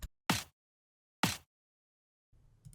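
Two identical layered snare drum hits from an EDM production sample, with a side-channel high-shelf EQ turned off, crack loud and dry about a second apart against silence, followed by a faint low tail.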